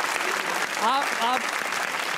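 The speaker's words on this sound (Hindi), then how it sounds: "तालियां" Studio audience applause on a comedy talk show, a steady wash of clapping lasting a couple of seconds, with a voice speaking briefly over it.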